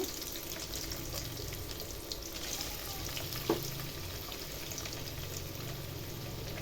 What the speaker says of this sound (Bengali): পানিরগুলো দিয়ে ভেজে নেব